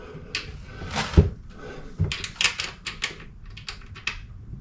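A thumb screw is hand-twisted into the mount of a flush-mount LED ceiling light, giving a close run of small, sharp clicks and ticks that come in quick irregular bursts with no one talking.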